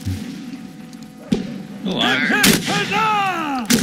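Gunfire in the Mount&Blade North&South battle game: a sharp shot, then a burst of loud overlapping musket reports and cracks with ringing, whistling tails, close and dense over background battle noise.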